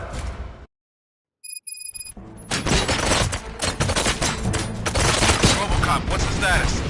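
Gunfire in the video game Robocop: Rogue City, a dense, loud barrage of rapid shots and impacts bursting in after a short silence and a faint electronic tone, continuing as heavy sustained fusillade.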